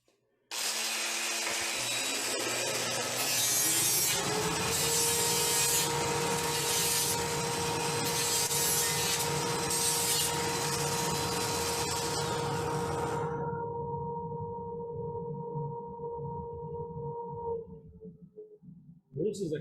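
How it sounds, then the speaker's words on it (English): A sanding disc works a wooden finial on a lathe, giving a steady, loud whirring drone with a grinding hiss that stops partway through while the spinning motor hum carries on alone and then winds down. "I'm going to put this sanding disc on here."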